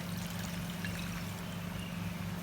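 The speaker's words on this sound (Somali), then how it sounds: "waxaan ku darsanaynaa koob biyo ah." A cup of water poured onto sugar in a pot, a continuous soft pouring stream heard alone at close range, steady and moderately quiet for its whole length.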